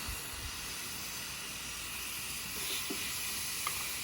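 Pineapple slices sizzle steadily on a hot Ninja Foodi grill, a continuous close hiss with soft crackles and no talking.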